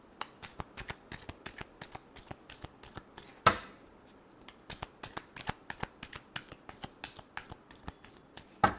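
Tarot cards are shuffled by hand in quick, crisp riffles and slaps, an evenly spaced run of sharp card snaps with one louder bridge-like burst midway, close and clear with no voice.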